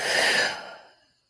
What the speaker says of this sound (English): And then exhaling.